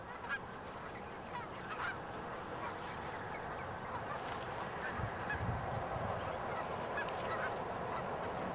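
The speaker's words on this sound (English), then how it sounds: "here we see the Canadian geese en route to south for the winter, stopping to dine on the corn" Canadian geese resting in a corn field on their autumn migration south, a flock honking steadily throughout, moderately distant, with a constant outdoor background hum and no talking.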